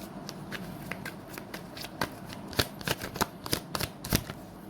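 Tarot cards are shuffled by hand, close up, in a run of crisp riffling flutters and taps that grow busier and louder toward the end, with no one speaking.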